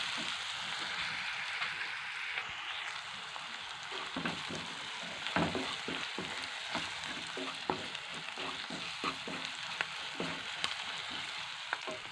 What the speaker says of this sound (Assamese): ইয়াত দেখিছে মই মাংসটো ফ্ৰাই কৰি লৈছোঁ, কেৰাহীত দিলোঁ